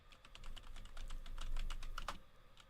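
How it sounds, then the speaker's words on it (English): Rapid typing on a computer keyboard, a fast, steady run of crisp, close key clicks that rises slightly in intensity midway through. "type anything on your keyboard and it gives you the predetermined dialogues"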